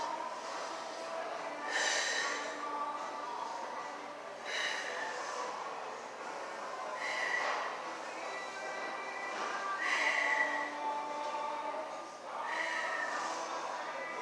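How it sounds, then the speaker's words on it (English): Slow, deep breaths during a postnatal core exercise, each inhale and exhale close and audible, repeating at a calm, regular pace with short gaps between them. "you're going to take 10 breaths"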